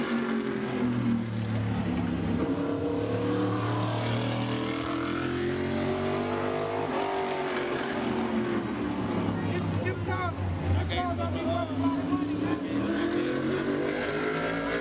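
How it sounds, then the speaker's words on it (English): A modified race car runs a qualifying lap at Bowman Gray Stadium, its engine droning loud and continuous with rising and falling pitch as it circles, while an announcer talks over it throughout. "Corey Lovett out here, trying to get a lap and put himself in the field."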